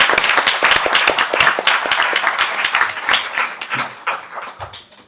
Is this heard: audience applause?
yes